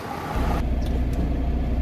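A truck's engine rumbles to life on a cold night, a deep, steady low drone that holds close and unbroken through the rest of the moment.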